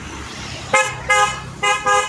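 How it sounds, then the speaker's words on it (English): On a busy Goa street, car horns honk in four short blasts in two pairs over a low traffic rumble, close and loud. "Lot of cars and all."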